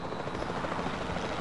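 Helicopter in Jurassic World Evolution 2, flown by the player, giving off a dense continuous rotor chop and turbine whine at steady, moderate loudness with no voices.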